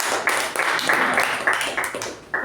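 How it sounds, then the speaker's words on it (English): Audience applause at a club meeting, a dense broadband patter of many hands clapping steadily, fairly loud and close, with no talk over it. "please give a huge round of applause on this note for our table topic masters for the day"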